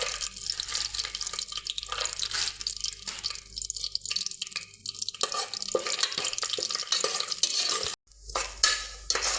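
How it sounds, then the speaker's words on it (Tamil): Whole spices and cashew nuts frying in oil for a millet vegetable biryani, a soft crackling sizzle with stirring clinks, fairly quiet and close, briefly cut off near the end. "மசாலா நல்லா பொரிஞ்சிச்சு."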